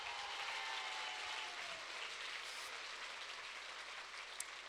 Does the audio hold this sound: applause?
yes